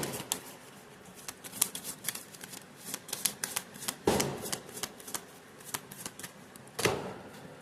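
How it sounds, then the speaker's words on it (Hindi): Tarot cards shuffled by hand in a quick, steady stream of close papery riffles and flutters, with two louder snapping bursts as the deck is bridged or squared. "देख रहे हो मैं कैसे शफल कर रही हूँ"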